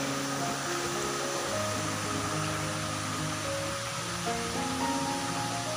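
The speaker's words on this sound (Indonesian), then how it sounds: "Hari ini kita melewati sungai-sungai ya di sini." Rivers flow past in a forest near a mountain village, a continuous, even rush of water filling the background, with faint steady tones running over it and no voices.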